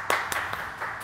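A few quick hand claps, about three or four in a second, break out close by at a tabletop Warhammer 40k battle game.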